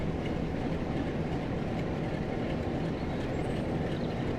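A train in Train Sim World 5 approaches on the Carlisle route as a steady, dense rolling rumble with faint rail clatter. It is continuous and even in level, with no speech.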